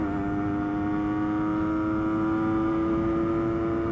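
An old Yamaha Enduro motorcycle, almost 40 years old and freshly repaired, cruising along a road in fourth gear, its engine a steady, close, buzzing drone that stays even throughout with no talking.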